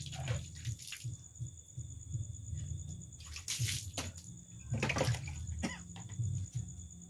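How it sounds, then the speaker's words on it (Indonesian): Water running and dripping out of goat parts as they are cleaned, a faint, close trickle with soft splashy bursts and light sloshing. "Kemudian biarkan dulu keluar semua airnya"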